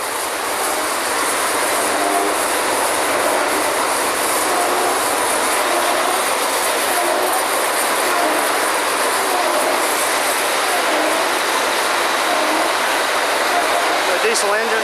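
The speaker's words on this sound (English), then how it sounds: "The diesel engines." Diesel engines on a well drilling rig give off a loud, steady, close mechanical roar that holds evenly from start to finish with no break.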